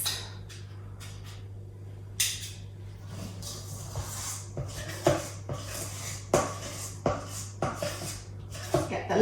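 Spoon scraping the last of a Victoria sponge cake mixture from a mixing bowl: irregular clinks and scrapes against the bowl, close and fairly loud, over a steady low background hum.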